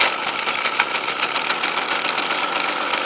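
A Stihl string trimmer engine idles steadily just after starting, a steady buzzing rattle with a fast even pulse, close and moderately loud, with no voices.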